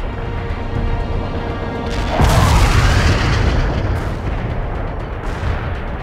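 A heavy artillery barrage in the World in Conflict video game swells into dense, continuous booming and rumbling after a couple of seconds, loud and sustained, with scattered blasts rolling on behind.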